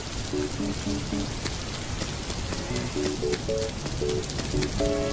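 Steady heavy rain falls in a constant close wash of drops, with short melodic tones sounding intermittently over it in a Filipino animated cartoon scene.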